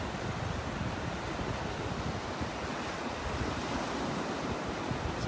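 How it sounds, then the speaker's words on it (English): Ocean surf rolling onto a beach in North Naples, Florida, heard as a steady, broad wash of breaking waves mixed with wind buffeting the microphone, with no distinct breaks and no voices. "Listening to them, the waves, the birds."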